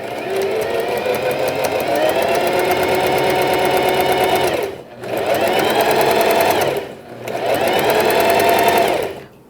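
A sewing machine stitches fabric for a pet bandana in a close, steady whirring run, pausing briefly twice as the needle stops before the stitching resumes at the same even pace.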